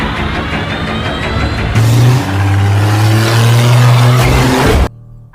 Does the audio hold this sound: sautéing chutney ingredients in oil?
no